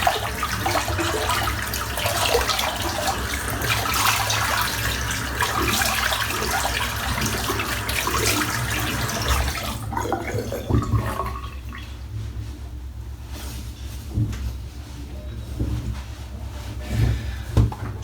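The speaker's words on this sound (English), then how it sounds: "Right, let's rinse this out." Water runs from a tap to rinse after a head shave, a loud steady gush for about ten seconds that then cuts off, leaving quieter drips and splashes.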